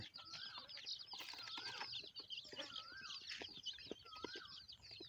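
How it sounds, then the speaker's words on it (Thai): Chicks of wild junglefowl from Udon Thani, Thailand, peeping and chirping in repeated high calls, with clucking fowl and flapping nearby, at low level with no talking. "นี่คือไก่ นี่คือลูกไก่ป่าแท้ครับ"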